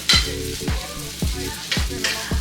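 Canned green beans warming in a pan with a continuous close sizzle, broken by regular scraping strokes of a spoon stirring roughly every half second.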